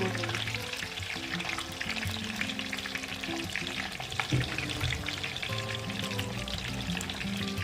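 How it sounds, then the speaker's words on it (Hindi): Green brinjals fry for Hyderabadi baghare baingan in a pan, giving a continuous, dense sizzle with bubbling oil and occasional stirring, steady and close throughout. "अच्छी तरह से फ्राई करूँगी"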